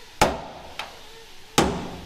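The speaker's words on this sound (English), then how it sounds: "all I got to do is I can just center punch it." Three sharp metallic hammer strikes on a center punch marking bolt holes for a rag top on an off-road limo, irregularly spaced, with the middle blow lighter and the others loud and close, no talk.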